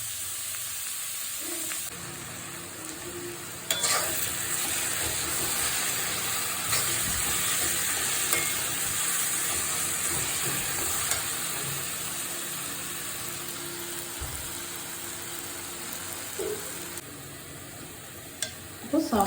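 Beef with onions and black pepper frying in a pan, a steady close sizzle with occasional stirring scrapes, no one speaking.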